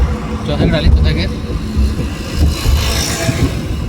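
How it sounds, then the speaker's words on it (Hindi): A car engine revving while driving on a highway in fourth gear, a steady roaring drone heard from inside the vehicle under ongoing conversation. "गाड़ी का रेस आवाज़ कर रहा है ना।"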